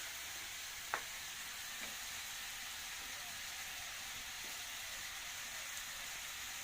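Cauliflower and flat beans frying in a pan for a home-cooked dish, a steady soft sizzle and hiss running throughout with a faint stirring click near the start.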